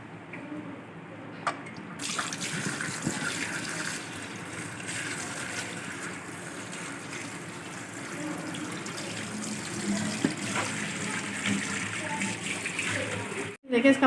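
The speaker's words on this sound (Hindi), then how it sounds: "इसको छन्नी में डाल लें, 2 से 3 दफ़ा इसको साफ़ पानी में धो लें।" Taro root (arvi) being rinsed in a strainer under running water, a steady close splashing and trickling stream with a brief clatter near the end.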